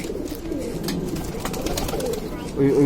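Pigeons in a newly built loft give soft, low cooing calls, repeated close by, with a brief louder burst near the end, while someone talks over them.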